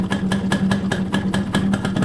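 A Suzuki A100 motorcycle engine, freshly refitted to its frame, idles close by with a quick, steady, even putter of regular pulses and no voices.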